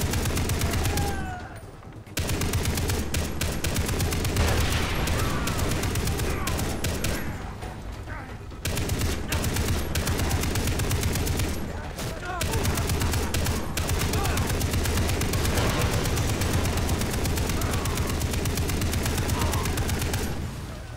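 Sustained rapid fire from a mounted gun in the video game Far Cry 3, a loud, dense, nearly continuous barrage broken by a few short pauses, with battle noise around it.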